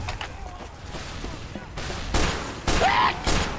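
Heavy gunfire in Team Fortress 2: a loud, continuous fusillade of rapid shots layered over battlefield noise, with bursts growing louder in the latter half.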